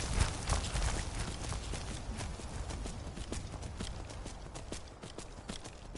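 Rapid, steady clip-clop of a horse's galloping hooves in Skyrim, close and continuous with a slightly synthetic, game-like sound and no voices.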